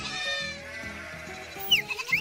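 Sheep in a flock being gathered by a herding dog bleat repeatedly in short, wavering calls, fairly close and distinct, with a few sharper higher cries near the end.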